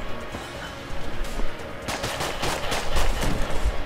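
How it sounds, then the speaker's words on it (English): Rapid bursts of sci-fi style blaster fire from a Star Wars-like gun in the video game Enter the Gungeon, repeated shots layered over game sounds, growing denser in the second half. "Oh, this is a Star Wars kind of gun."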